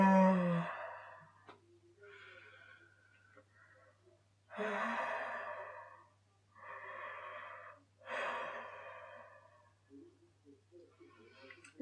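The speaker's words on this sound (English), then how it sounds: "just start to open the mouth in the inhale and really go exhale into the yawn" A person deliberately yawns, opening the mouth on a breath in and then releasing a long, drawn-out exhale, repeated several times as breathy, sighing bursts close to the microphone in a quiet room.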